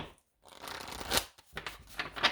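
Tarot cards being shuffled by hand in quick riffling bursts, close and crisp, with brief pauses between the flurries of card noise.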